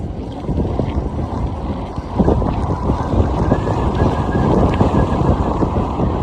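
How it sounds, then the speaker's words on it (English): Strong wind buffets the microphone while riding a bike, a constant loud roaring rumble that swells slightly louder partway through. "Oh, it's so windy."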